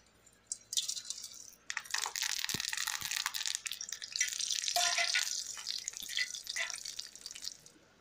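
Garlic, cumin, curry leaves, dried red chillies and tempering spices sizzle steadily in hot oil for Andhra-style tomato rasam, a continuous bright crackling hiss with a few sharper pops, close and fairly loud with no talking.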